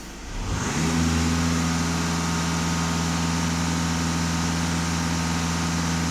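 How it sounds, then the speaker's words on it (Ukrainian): A VW Passat B8 4×4 engine held at full throttle, rising quickly from a low idle into a loud, steady high-rev drone that holds evenly to the end, with strong low harmonic hum and broad mechanical noise. "даю газ в пол"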